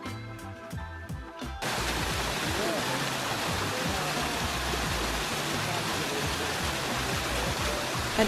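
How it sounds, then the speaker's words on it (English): A waterfall in Northern Thailand pours steadily as a loud, continuous rushing wash of flowing water, starting abruptly after a short quieter opening and holding unbroken to the end. "on the highest floor of the waterfall you had a kind of shower that you can stand under"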